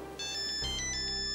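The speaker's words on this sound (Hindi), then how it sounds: "शास्त्री जी का फोन" A phone ringtone sounds in a Hindi TV drama scene, a bright repeating electronic melody with pulsing tones, clear and close, with no voices.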